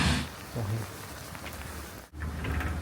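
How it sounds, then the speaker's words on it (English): Heavy rain pours steadily during flooding in Rio Grande do Sul, Brazil, a dense close wash of drops on surfaces with a brief dip before it swells again, no speech. "it's starting to rain harder again"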